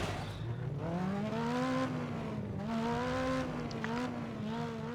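Rally cars racing together in the MotorStorm video game, several engines revving and droning at once with rising and falling pitch as they shift through gears, loud and continuous with faint tire noise.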